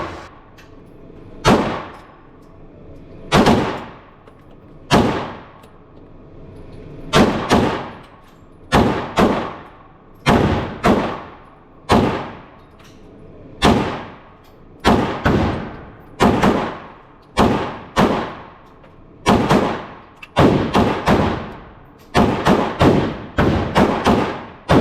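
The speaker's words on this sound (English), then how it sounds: "I'm shooting the Federal 124 grain bullet." Walther PDP pistol firing Federal 124 grain rounds at an outdoor range, around twenty loud sharp reports with ringing decay, spaced irregularly at first and then coming in quicker clusters toward the end.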